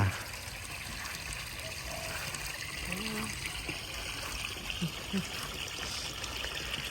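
Soft, continuous trickling water from a Bali-style water feature near a fish pond, running steadily in the background, quiet and even, with a few faint thuds.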